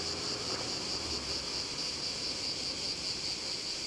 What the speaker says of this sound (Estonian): Ma ei saa aru, mis sitikad need on või kas need on rohutirtsad või mis asjad, aga no see kõik tuleb siit puude otsest.